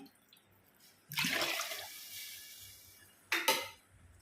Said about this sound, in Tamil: இப்போ குண்டான கழுவி ஊற்றிக்கிறோம்.